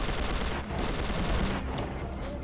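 Rapid gunfire from a picked-up gun in the Prototype 2 video game, dense and continuous at moderate loudness with no pauses, heard without talking.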